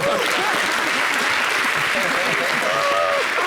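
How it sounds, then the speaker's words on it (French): A studio audience on a television talk show applauds a woman guest, sustained dense clapping throughout, with cheers and voices rising over the applause. "Applaudissez cette femme."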